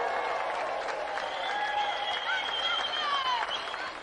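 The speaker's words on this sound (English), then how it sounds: "let's have another round of applause for our gallant competitor, Jamie Spencer." Studio audience applause on a television game show, steady dense clapping throughout with faint cheers and whistles layered on top, moderately distant and sustained without talk.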